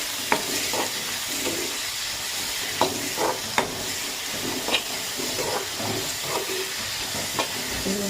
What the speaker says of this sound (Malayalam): അപ്പം നമ്മൾ അരിഞ്ഞു വെച്ചിരിക്കുന്ന 2 സവാള അതിലേക്ക് ഇട്ട് കൊടുക്കും. അതിനെ നന്നായിട്ടൊന്ന് വഴറ്റി കൊടുക്കാം.